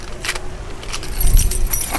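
Keys jangle near a kayak fishing setup, a close metallic rattle and chime over a steady low rumble, with no talk.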